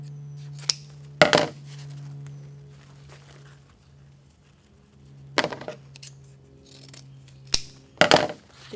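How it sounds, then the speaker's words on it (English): Scissors make crisp, close snips through ribbon tails to form a chevron cut, with a few separate cuts spaced across a quiet background hum. "I'm just going to fold it lengthwise and cut on the folded edge away from me and finish off those ends."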